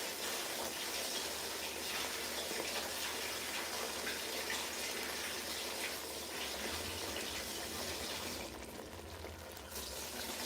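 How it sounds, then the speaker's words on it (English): Running water from a kitchen tap splashes steadily as rice is rinsed for party jollof, a continuous close gush with brief swishing changes near the end and no talk. "So I'm going to rinse my rice down."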